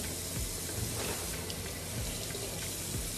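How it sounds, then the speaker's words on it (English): Tap water running steadily into a kitchen sink while hands are rinsed after handling raw beef: a close, constant splashing gush with small irregular splatters. "I'm gonna rinse my hands off"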